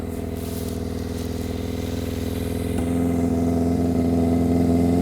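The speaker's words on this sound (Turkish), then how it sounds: "Isındı dört silindire çıktı bak. Duyuyor musun?" Warmed-up four-cylinder car engine running close by, a steady throbbing idle that rises into a louder, higher rev partway through and holds there.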